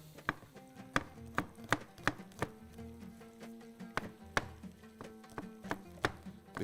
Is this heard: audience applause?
no